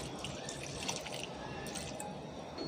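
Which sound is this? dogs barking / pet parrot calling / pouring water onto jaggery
pouring water onto jaggery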